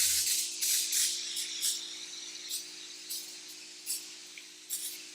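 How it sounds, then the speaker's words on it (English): Short hissing bursts of cooking spray onto a baking sheet repeat several times, fairly close, over a faint steady electrical hum. "We're going to give it a generous spray"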